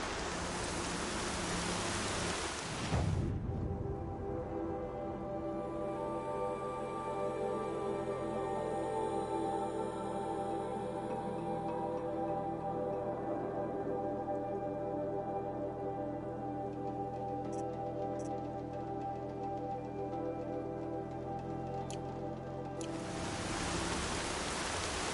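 Heavy rain pours steadily in the video game Horizon Zero Dawn, a dense continuous hiss that stays loud and even for about twenty seconds with no voices.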